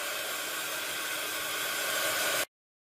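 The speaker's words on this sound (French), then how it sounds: "je vais sécher avec le heat gun" Heat gun blowing steadily on wet paint on a craft card, a loud continuous broadband hiss that holds for about two and a half seconds and then cuts off abruptly into silence.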